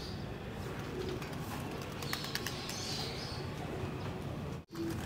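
Pigeons coo softly and continuously in a large loft aviary, with scattered chirps and faint wing movement, quiet and unhurried throughout.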